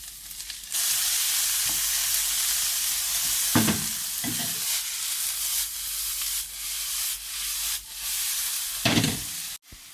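Bell peppers frying in oil in a pan with aubergines for tchoukchouka, a loud continuous sizzle with a few stirring scrapes and one brief cut-out near the end.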